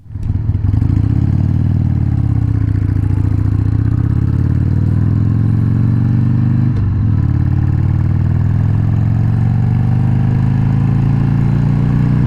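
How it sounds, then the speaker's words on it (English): A 2003 Harley-Davidson 100th anniversary Sportster motorcycle on the road gives a loud, close, continuous engine rumble whose pitch slowly rises and falls as it rides. "we are out on the 2003 100th anniversary Sportster on its first ride"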